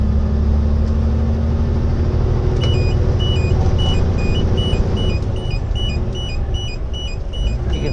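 A road vehicle's engine drones steadily up close as it is eased out of gear with light touches on the clutch. The tone shifts partway through, and a repeating high electronic beep pattern then sounds over the running engine.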